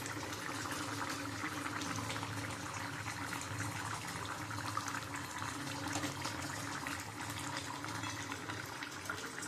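Small fried bhola fish going into a simmering brinjal and potato curry in a pot, a steady bubbling, sizzling wash of liquid at close range with no talking.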